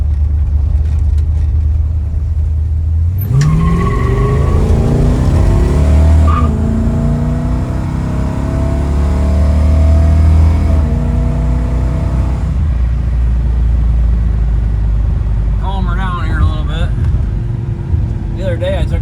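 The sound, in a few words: 1970 Plymouth GTX 440 Six Pack engine driving on highway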